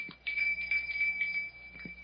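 Pull-bell at the great oaken door of an old house rings in a short jangling burst of thin metallic tone, followed by a soft knock, heard moderately loud on an old radio recording.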